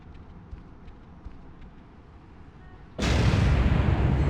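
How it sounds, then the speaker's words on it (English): A sudden loud explosion in a Spider-Man 2 video game cutscene, a broad roaring blast that hits after three seconds of quiet room tone and keeps rumbling to the end. "Explosion."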